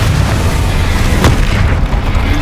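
Confringo spell blast in the Hogwarts Legacy video game, a loud booming explosion that rumbles continuously through the short clip, with a sharp crack near the middle.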